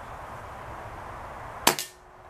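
Falcon Prairie air rifle firing a pellet in a field: a single sharp crack rings out close by over quiet background hiss, followed at once by a fainter metallic echo or clank.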